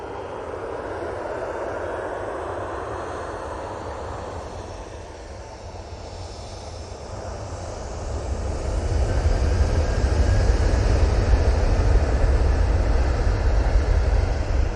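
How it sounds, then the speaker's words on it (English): EasyJet Airbus A320 departing Manchester Airport for Zurich, jet engine roar building from a steady rumble to a louder, deeper thrust surge midway as the aircraft powers away, no voices. "we've got the EasyJet A320 going off to Zurich"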